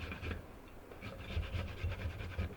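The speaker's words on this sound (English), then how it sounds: "Now when I'm grating, now that I'm grating it" Carrots are grated by hand, giving a series of soft, rhythmic rasping strokes at close range, fairly quiet against low background noise.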